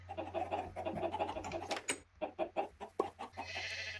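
Short bleating sheep calls in a video game repeat over a steady low hum, with some busier chatter-like bursts early on and a brighter hiss at the end.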